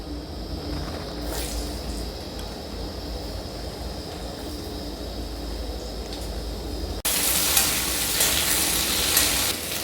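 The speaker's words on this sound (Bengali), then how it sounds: "মাছ ভাজার তেলে এবারে আমি কেটে রাখা আলুগুলো দিয়ে দেবো।" Cut potatoes go into oil left over from frying fish, giving a steady close sizzle that jumps into a louder, hissing burst partway through as they hit the hot oil.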